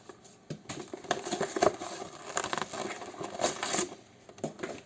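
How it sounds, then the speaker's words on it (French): A small cardboard box holding a diecast miniature Renault 4 poster-van model is opened by hand, giving close, quiet rustling, tapping and scraping of card in irregular bursts with no voice. "je suis en train d'ouvrir le petit carton."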